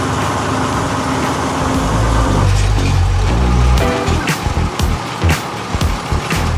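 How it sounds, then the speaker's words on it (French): A tractor on big tires pulls a harrow across a field, its diesel engine rumbling low and loud close by, rising in a deep drone before rattling clanks and knocks break through. "On est dans le tracteur, les amis. On va herser."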